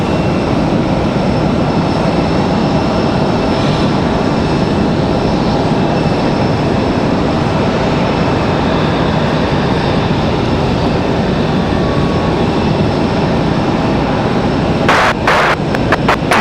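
A Boeing 777-200 jet departing Raleigh Durham airport for London, a loud, continuous broadband engine roar held close for the whole stretch, with a few brief rattling bursts near the end and no talking.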